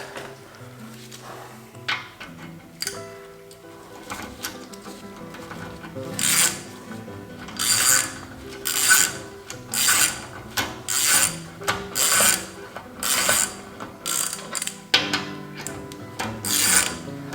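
A hand ratchet tightens wheel bolts while spacers are fitted on a BMW M4, first slow scattered clicks, then a close, regular series of ratcheting strokes in even bursts.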